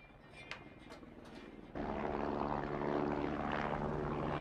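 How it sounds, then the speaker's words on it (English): A helicopter in a horror adventure movie scene: after a quieter stretch with a few faint clicks, a loud, steady rotor-and-engine roar starts suddenly and continues close and unbroken to the end. "That's the chopper."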